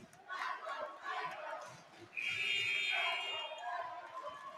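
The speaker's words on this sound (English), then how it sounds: "That is the first buzzer." A buzzer blares partway through a high school girls' basketball game in a busy gym, rising over crowd chatter and the announcer's commentary and holding for a couple of seconds.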